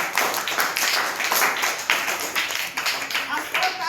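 Classroom children clapping in an uneven burst of quick claps, close and lively, with an adult voice speaking over the applause.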